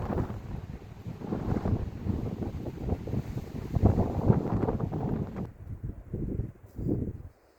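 Gusting wind at Mesa Verde National Park buffeting the microphone, a loud, rumbling, fluttering roar that rises and falls in waves, easing into separate short gusts near the end.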